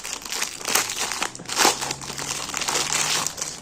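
Purchased items, including books and a small bracelet, are unwrapped from plastic and paper packaging: continuous close crinkling and crumpling with brief louder rustling surges, no talking.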